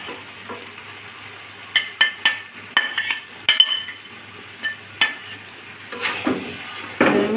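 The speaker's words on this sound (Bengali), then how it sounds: "এবার আমি ভেজে রাখা মাছের মাথা কাটাগুলো দিয়ে দিচ্ছি।" Fried fish head pieces are added to a pot of cabbage, with a run of sharp metallic clinks and scrapes from a spoon against the pot over a soft sizzle, ending in louder stirring.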